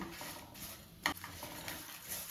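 Garlic and cumin tempering sizzles in hot oil for a ridge gourd peel chutney, a steady close hiss with a sharp clatter of stirring near the middle and lighter scrapes after.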